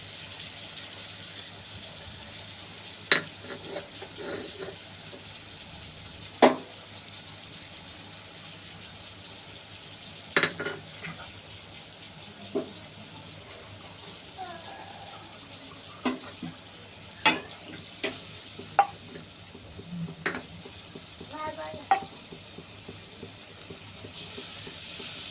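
Green chilies and poppy seed paste fry and get stirred in a pan, a low steady sizzle under scattered sharp scrapes and clicks of the spatula against the pan.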